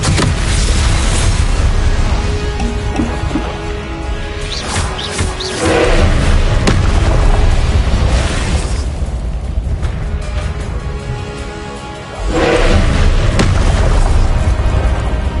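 Spell casting in Hogwarts Legacy, with Accio, Incendio and Expelliarmus cast in turn, sets off loud booming explosions and magical bursts over a dense game soundscape, with heavier blasts near the middle and again near the end.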